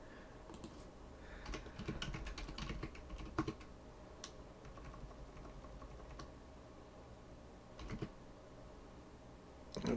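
Typing on a computer keyboard while coding, with irregular bursts of clicky keystrokes and short pauses, close and fairly quiet, with no talking.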